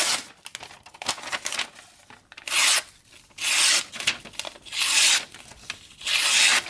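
A knife slices through material on a table during a cut test, giving repeated rasping, tearing strokes in bursts, loud and close.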